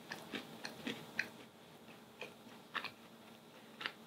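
Crisp bites and chewing of a crunchy macaron come through as a handful of sharp, close crackles spaced irregularly, alone in a quiet room.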